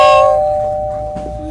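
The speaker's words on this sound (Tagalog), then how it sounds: "Ring on the doorbell." Doorbell chime at a home entrance, a loud clear ding ringing out and decaying over about a second, followed by a faint softer tone.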